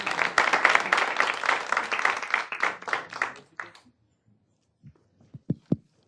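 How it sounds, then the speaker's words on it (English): A room full of attendees at a hospital board of associates meeting gives a short round of clapping that fades out, followed by near silence and a few isolated thumps. "Another round of applause for them."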